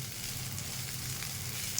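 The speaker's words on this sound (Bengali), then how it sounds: "দেখুন আমার ঢেঁড়স ভাজা তৈরি হয়ে গেছে।" Okra frying in a pan gives off a steady, close sizzle that holds even and unbroken throughout, with no voices over it.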